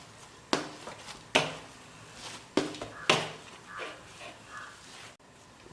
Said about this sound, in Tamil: இப்போ வந்து மாவு வந்து நல்லா பிசைஞ்சிக்கணும்